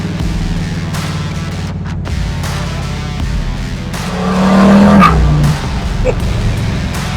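Rumbling V8 of a lowered 1982 Chevy S-10 pickup with a swapped 355 engine, heard from inside while cruising, a steady drone that swells as the throttle opens midway, then settles back.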